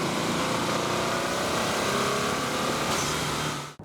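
A 2025 Subaru WRX tS engine drones loud and steady as the car drives off along a road, a broad continuous mechanical roar that cuts off abruptly at the end.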